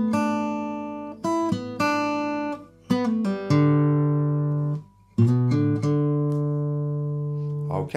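Clean electric lead guitar playing the Pink Floyd Wish You Were Here intro melody, with sustained, sliding single notes and bends ringing in a slow phrase, close and alone without talk.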